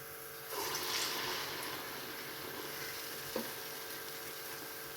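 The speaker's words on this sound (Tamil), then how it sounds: "வடைக்கும் எண்ணெய் காஞ்சிடுச்சு வடையும் போட்டலாம்" Vada batter dropped into hot oil, a soft continuous sizzle that swells briefly at the start and then settles into a steady bubbling hiss, with one small clink and no speech.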